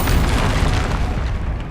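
A Confringo spell explosion in the video game Hogwarts Legacy, a loud sustained boom with dense rumbling that fills the whole short stretch and trails off slightly at the end.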